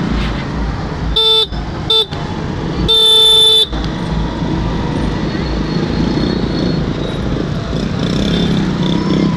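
Vehicle horns honk in short bursts, then one longer blast, over the steady rumble of a village road jammed by a tempo, with a vegetable seller standing in the roadway.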